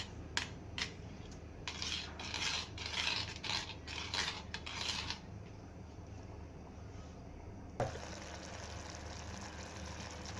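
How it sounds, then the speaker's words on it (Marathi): A spoon scrapes and stirs thick tamarind and jaggery paste in a pan, a series of close rasping strokes that stop, followed by a steady low simmering hiss. "थोडंसं फिरवत राहायचं"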